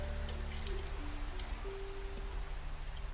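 Steady rain falls in Minecraft, a soft constant patter with light drip sounds over a low droning background.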